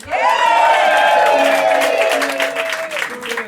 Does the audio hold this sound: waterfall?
no